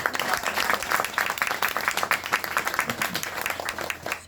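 An audience at a stage concert breaks into sustained applause, with dense, even clapping throughout and a faint voice underneath.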